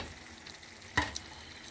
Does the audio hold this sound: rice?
yes